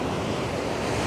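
Sea water splashes and surges around Margate Pier, a dense wash of surf noise mixed with wind buffeting the microphone across a brief moment.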